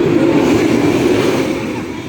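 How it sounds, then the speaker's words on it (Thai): A Thai train rumbles past close by, a loud dense roar of wheels and rail noise that fades slightly toward the end. "รถไฟผ่านไปแล้ว"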